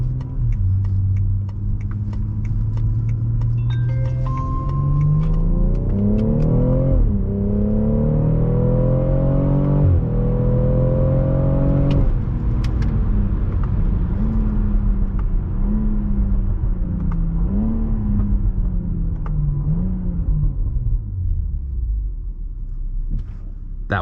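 A 2018 BMW X3 M40i (G01) with its B58 engine accelerates hard through rising gear pulls, the engine note climbing, dropping at shifts and climbing again, loud and close, with rumbling exhaust throughout.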